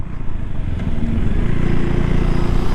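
A KTM 390 Duke single-cylinder motorcycle engine accelerating, a loud, close, continuous rumbling drone that holds steady with slight rising pitch throughout.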